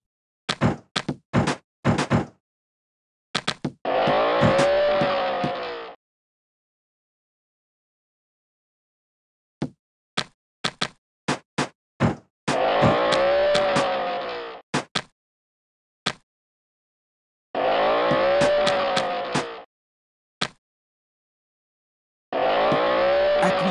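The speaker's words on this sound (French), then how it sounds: "Peppa et Georges veulent jouer avec les voitures télécommandées." Toy remote-controlled cars from a Peppa Pig racing game play as short bursts of revving engine noise separated by silences and quick clicking taps.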